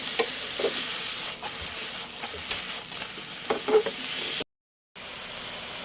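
Eggplant with shrimp paste (bagoong) sizzles steadily in a hot pan, stirred with scattered clinks and scrapes, close and continuous apart from a brief silent break near the end.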